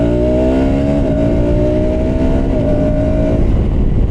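The engine of a KTM Adventure 390 motorcycle drones loud and close during a ride, holding a steady revving tone with a slight change in pitch and continuous rushing wind.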